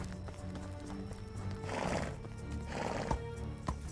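Horses in the video game Medieval Dynasty whinny and neigh twice in quick succession, with steady clip-clopping hoofsteps running underneath, fairly close and loud, and no talking.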